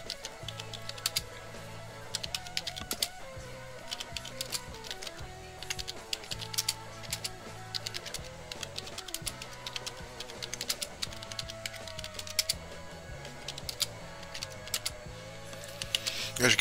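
Rapid clicking of keys on a computer keyboard while typing a prompt to write a Python script, continuous and uneven in rhythm, heard close up over a faint background.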